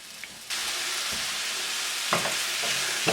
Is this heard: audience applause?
no